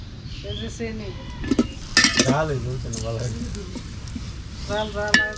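Onions frying in oil over a wood fire in a rural Bangladeshi mud kitchen, a soft sizzle beneath clinking pots and utensils and stirring, with people talking throughout.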